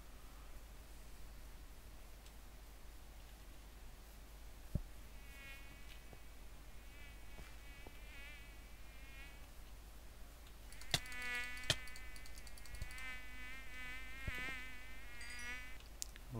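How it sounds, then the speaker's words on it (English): A mosquito swarm whines in a Minecraft world on the FTB Unleashed modpack, a faint, wavering insect drone that comes and goes, thickening into a denser buzz with a few sharp clicks near the end. "Lousy mosquito swarm thing."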